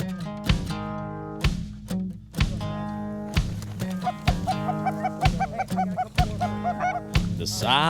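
Geese honk repeatedly during a Colorado goose hunt. The loud, close, nasal calls come in uneven bursts and overlap into a busy chorus toward the end.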